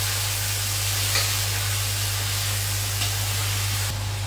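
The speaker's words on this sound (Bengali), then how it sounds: "এখন চিকেনটা ঢেলে দিলাম।" Marinated chicken poured into a pan of browned onions fries with a steady, even sizzling hiss and no voices.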